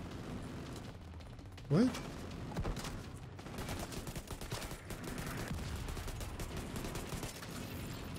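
Gunfire and mortar fire in a military shooter video game, with a sharp burst near the start followed by dense, continuous crackling shots and blasts while voices talk over the action.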